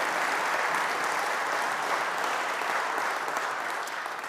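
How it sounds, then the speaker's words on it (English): A university address audience applauds a tuition-free guarantee for lower-income families, giving dense, sustained clapping from a large crowd that holds steady and tapers slightly at the end. "This year, yeah, you can applaud for that."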